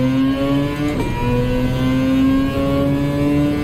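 A race car engine in the Gran Turismo video game revs steadily and loudly, with a brief dip around the first second as the pitch resets before climbing again.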